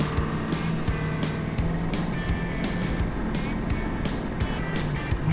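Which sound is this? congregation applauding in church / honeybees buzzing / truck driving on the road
truck driving on the road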